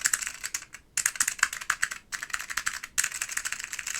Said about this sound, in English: So I put white clicky Alps in here.